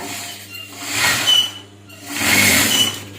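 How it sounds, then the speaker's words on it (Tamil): A sewing machine stitching a blouse runs in two bursts of whirring mechanical hum with a short pause between, close and fairly loud. "இந்த தையல் போடணும்"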